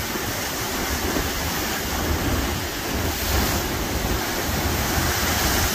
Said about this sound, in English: We're going to wait till the seas, nice big splash come through.